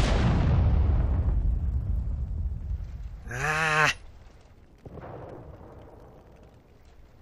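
Cannon fire in the World War II strategy game Sudden Strike 4: a heavy boom opens and fades slowly, a short wavering bleat-like cry rings out, then a second, fainter blast thuds and trails off.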